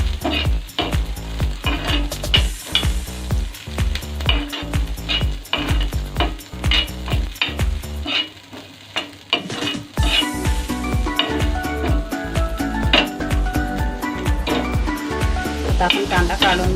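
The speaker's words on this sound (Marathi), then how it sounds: "आता याच्यामध्ये आपण अद्रक टाकूया, लसूण त्याला पण थोडं आपण भाजून घ्यायचं।" Ginger and garlic roast in a pan for a mushroom dal, giving a loud, continuous sizzle close by with frequent clinks and scrapes of a stirring utensil and a brief lull partway through.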